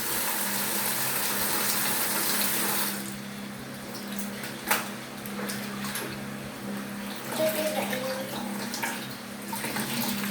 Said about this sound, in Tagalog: Banlawan mo itong damit.